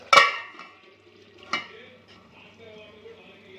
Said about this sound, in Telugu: బాగా మళ్ళీ మూత పెట్టేద్దాం